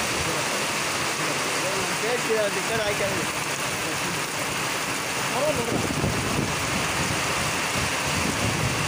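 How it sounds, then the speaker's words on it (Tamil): Heavy rain pours down steadily around a house, a dense continuous wash of noise with a brief voice speaking over it. "ஃபுல்லு மழை பெய்யுது"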